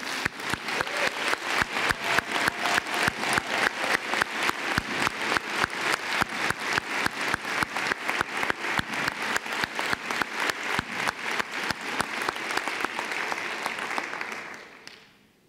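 A convocation audience claps for graduates at a university College of Education ceremony, rhythmic unison clapping at an even pace that holds strong for about fourteen seconds, then trails off.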